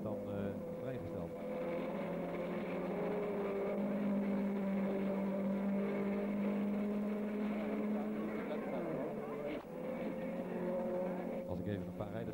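Formula Ford single-seater race cars with 1600 cc Ford engines drone past on the Zandvoort circuit in 1975, a sustained whining engine note rising and falling at moderate distance, with talking over it throughout.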